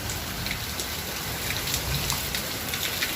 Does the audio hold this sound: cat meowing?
no